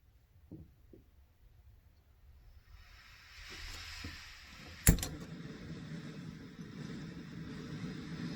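A small portable gas stove hisses faintly as its gas knob is opened, followed by a sharp click and a louder steady rushing hiss that continues to the end.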